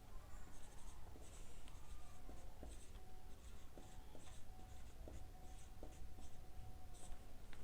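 Chalk or marker strokes on a board during a Hindi-medium 12th-class organic chemistry lesson, a steady run of short scratchy taps and strokes against a constant low room hum, with no talking.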